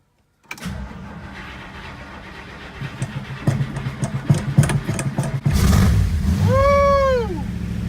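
A 1963 Buick Riviera engine, started with a battery charger on engine-start mode, cranks briefly, catches and roars to life, then settles into a steady, throaty idle; a rising electric whine sweeps up near the end.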